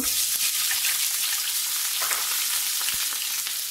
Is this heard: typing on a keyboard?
no